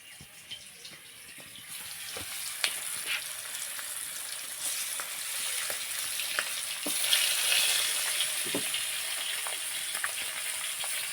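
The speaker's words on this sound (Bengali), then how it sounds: "কড়াটা গরম হয়ে গেছে, দিয়ে দিলাম তেল। গরম হয়ে গেছে, দিয়ে দিন মাছ।" Pangas fish frying in hot oil in a wok, a steady close sizzle broken by sharp crackles and pops that grows slightly louder and more agitated, with no voices.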